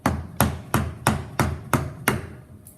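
A chisel cuts along the grain of a mass timber workpiece in six sharp, evenly spaced strikes, each a crisp close thwack with a short decay, heard alone without talk.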